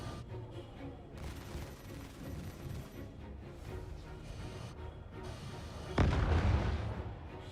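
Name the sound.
turret gunfire in the video game Star Citizen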